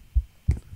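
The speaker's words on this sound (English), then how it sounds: "Where's the heartbeat coming from?" Two dull low thuds of a heartbeat in a horror video game, evenly spaced and fairly close, with nothing else over them.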